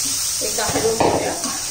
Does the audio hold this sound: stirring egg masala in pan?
yes